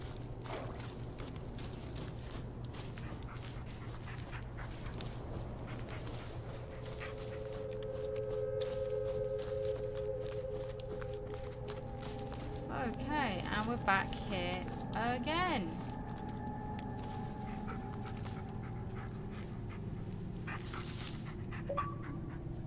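A dog in the Blair Witch video game pants and whimpers quietly over a steady low background hum, with a few faint tonal sounds drifting in partway through.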